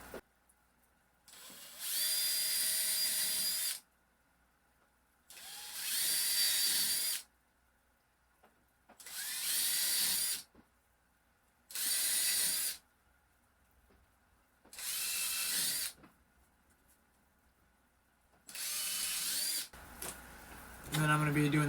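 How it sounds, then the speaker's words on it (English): Six separate bursts of a power drill with a 7/64 bit boring into a wooden garlic planting jig, each whining for a couple of seconds with short silent pauses between, close by. "I'm going to be using a, 7/64 drill bit."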